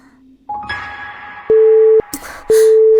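A phone busy signal beeps through a handset, two loud, steady tones each lasting about half a second with a short gap between, coming after a brief dial sound and clicks.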